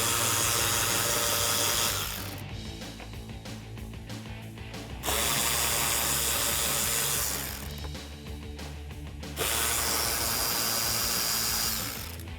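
Phillips screwdriver backing out screws from the inner wheel well liner of a 2005-2009 Mustang GT, giving a steady close mechanical whirring with clicking ratchet-like texture that swells and eases in repeated cycles.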